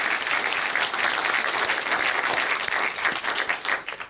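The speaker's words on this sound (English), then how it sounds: "Please join me in one last round of applause for Press Play." Audience applause at a film festival awards ceremony, a steady wash of many hands clapping in a hall, holding strong before easing slightly toward the end.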